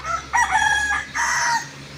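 A rooster crows once, close and loud, a two-part call rising then holding before it cuts off over faint background hum.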